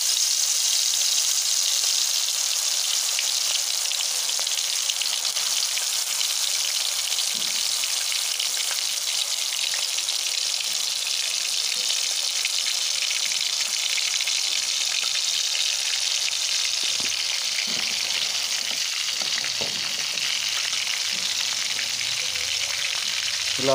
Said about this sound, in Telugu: డైరెక్ట్గా ఫ్రాన్స్ని ఆయిల్లో వేయకుండా ఇలా జాలి లాంటిది అయితే పెట్టి దానిపై నుండి అయితే ఈ ఫ్రాన్స్ ముక్కల్ని అయితే యాడ్ చేసుకుంటున్నాను